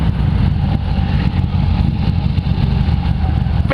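A Harley-Davidson motorcycle engine idles steadily and loudly up close, a continuous low rumbling throb with no voices.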